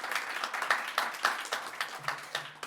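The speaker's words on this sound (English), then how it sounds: "Let's give a round of applause to Room Party." Small audience applause at a furry studies conference talk, a thin scatter of claps with a few sharper peaks, fairly faint and brief, with no talking over it.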